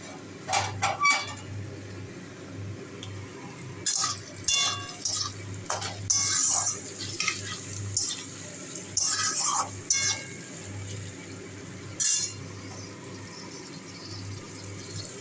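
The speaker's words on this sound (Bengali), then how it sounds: "এখন আমি টমেটো আদা আর কাঁচা লঙ্কাগুলো সব দিয়ে দেবো" Tomato, ginger and green chilies tipped into a pan of frying onions and stirred, giving scattered clinks, scrapes and sizzling bursts over a steady low hum, close and moderately loud, with no talking.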